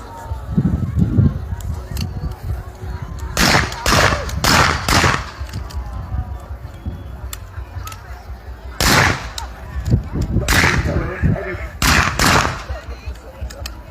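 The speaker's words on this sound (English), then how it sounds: "Independent fire is slightly different, obviously they fire when they're ready." Independent rifle fire from 1880s reenactment infantry, several sharp cracks at irregular moments in clusters around the middle and end, heard outdoors over a murmur of voices and ambient noise.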